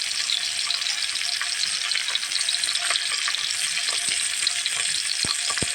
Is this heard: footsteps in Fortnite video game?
no